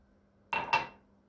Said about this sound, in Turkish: Bir bardak suda bu şekilde sarımsağımızı da süzdüm.